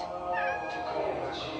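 A male cat meows in drawn-out, wavering cries, close and moderately loud, over constant background noise.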